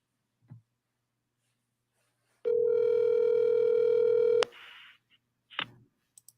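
Telephone held up to a microphone plays a steady dial tone for about two seconds, cut off abruptly, with a few short clicks and beeps around it and no talk.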